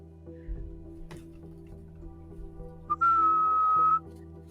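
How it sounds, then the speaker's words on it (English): In a puzzle game, a lock opens with a sustained pure whistle tone that holds for about a second, followed by a light tingly chime. Faint ticks and a low hum sit underneath. "You hear the whistle, you hear the tingly sound, and then as the symbols fall into place, the lock opens"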